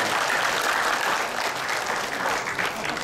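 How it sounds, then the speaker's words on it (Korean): Audience applause at a Korean contemporary art award ceremony, sustained dense clapping from a hall full of people, fairly loud and even throughout, with no talk over it. "박수로 한번"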